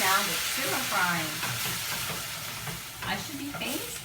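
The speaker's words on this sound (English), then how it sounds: "That's the sound of sugar frying." Sugar frying in a hot pan while kale wilts, giving a steady bright sizzle with stirring scrapes and bursts of crackle throughout, close up and loud.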